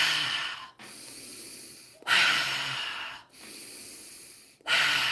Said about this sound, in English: Just keep breathing in and out, in and out.